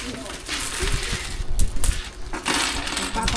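Coins clatter and jingle as they are dropped and poured, a bright metallic rattle in bursts, with people talking nearby.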